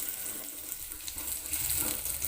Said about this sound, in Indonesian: Panaskan sedikit minyak goreng, masukkan bawang putih dan jahe. Tumis bawang putih dan jahe hingga beraroma.